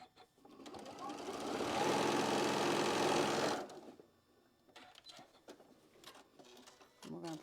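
A sewing machine stitches quilt block seams in one steady, loud run of a couple of seconds, then stops, followed by quieter handling noises and brief talk.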